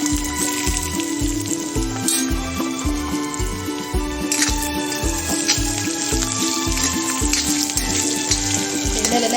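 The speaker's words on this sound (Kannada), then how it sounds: "ಎಣ್ಣೆಲೆಲ್ಲ ಚೆನ್ನಾಗಿ ಫ್ರೈ ಮಾಡಿ ರೋಸ್ಟ್ ಮಾಡ್ಕೊಳ್ಳಿ." Potatoes frying and roasting in oil give a continuous close sizzle and crackle, with a steady pulsing bubbling underneath throughout and no one speaking.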